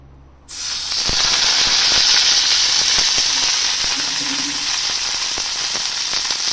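Bottle gourd leaves drop into hot oil on a pan for a hilsa recipe and break into a loud, steady sizzle that starts abruptly and crackles on without pause.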